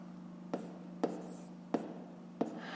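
Fractions being written by hand on paper, four sharp pen taps and short scratches spaced about half a second apart over a faint steady hum, quiet and without talk.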